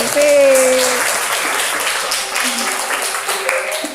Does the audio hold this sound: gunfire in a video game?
no